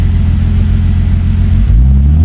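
An M50 turbo car engine rumbles steadily at night, then its pitch climbs as it revs and pulls away on a slippery surface, close and loud.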